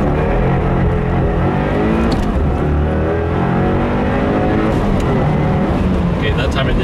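A 2015 Subaru WRX with an E30 tune drones at full throttle, a loud steady low engine roar heard from inside the car during a data-logging pull, with someone talking over it.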